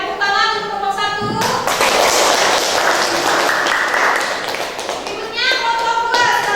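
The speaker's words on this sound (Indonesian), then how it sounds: "Ya, tepuk tangan untuk kelompok 1." Applause for the first student group after their classroom presentation at an Indonesian teacher training session, a dense burst of clapping filling the middle seconds between stretches of talk.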